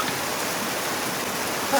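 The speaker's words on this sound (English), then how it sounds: "it's like a waterfall coming right out of the ground right here." Spring water pouring out of the ground like a waterfall in Idaho, a steady, close rushing roar with no one speaking.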